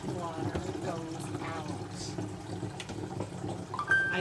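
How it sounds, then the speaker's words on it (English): Sink water drains through grey water plumbing and pours into a bucket, a steady close trickle and splash, with a person talking over much of the flow. "We have a bucket with water. We have a sink draining into there."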